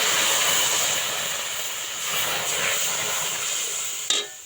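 Water poured onto hot roasted semolina in a pan hisses and sizzles in a steady, loud rush of steam that eases slightly before a brief clink near the end.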